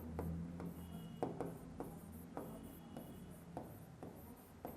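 Chalk or marker strikes a classroom board in short rhythmic strokes, about nine quick scratchy taps and swipes spread evenly with brief pauses, quiet and close, with no talking.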